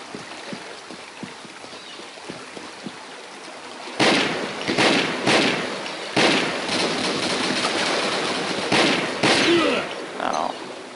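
Assault rifle fire in the shooter game Combat Arms, heard as several loud bursts of rapid shots over steady game background noise, starting after a few quieter seconds.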